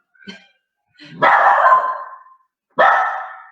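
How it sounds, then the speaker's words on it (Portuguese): A small puppy barks indoors nearby, one short yip followed by two longer, loud, rough barks separated by silence. "Opa, que o meu cachorro resolveu participar da live aqui"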